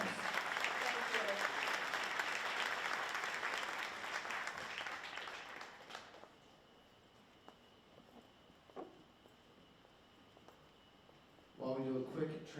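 An audience applauds loudly at a public health conference for about six seconds, the clapping fading into quiet room tone before a voice begins speaking near the end.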